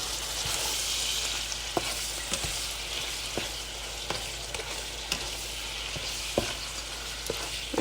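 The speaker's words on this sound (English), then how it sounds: "We're gonna stir it so it gets in every single little piece of tofu." Tofu frying with soy sauce crackles and sizzles loudly and continuously, as a spatula stirs with repeated sharp taps and scrapes against the pan at an irregular pace.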